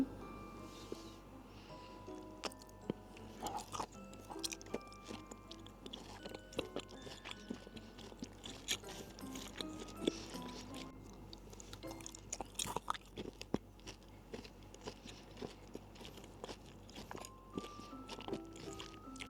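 Someone eats Dubai chocolate daifuku close to the mic, with soft repeated bites, chewing and squishy sticky sounds, some faint crunches, and steady mouth noises without talk.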